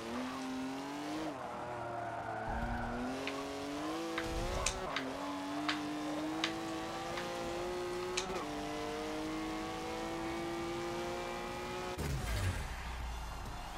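Race car engine in Forza 7 holding a steady high drone with rising gear harmonics, shifting pitch as it brakes and downshifts, with brief tire squeal and an abrupt change near the end.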